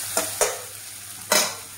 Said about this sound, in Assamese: এইখিনি মই অলপ ভাজি ল'লোঁ